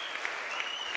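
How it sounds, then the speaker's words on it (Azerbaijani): Loud, dense applause from a television show audience cheering finalists, a continuous burst of many hands clapping close and full. "Bax, bu gürültülü alqışlar sizlər üçündür."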